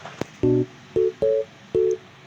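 A phone gives a series of short, evenly spaced electronic beeps, mostly two-tone chirps about half a second apart, fairly quiet and alone without any talk.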